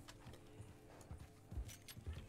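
Horse hooves clip-clop in Red Dead Redemption 2, a few soft irregular thuds at low volume against faint ambient background.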